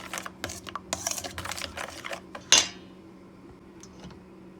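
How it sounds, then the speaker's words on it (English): Yoghurt puff puff batter mixed in a bowl: a close flurry of quick spoon taps and clatter, then one sharp metallic clink before the mixing sounds drop away to near quiet. "So whilst we are mixing all the ingredients together"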